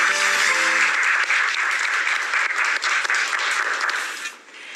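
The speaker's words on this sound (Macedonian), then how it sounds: "Мислам дека овој аплауз, силен аплауз на твоите другари овде те окуражи малку." Friends in a game-show studio audience give strong, sustained applause, a dense, loud patter of many hands that thins out and fades near the end, after a few brief tones at the start.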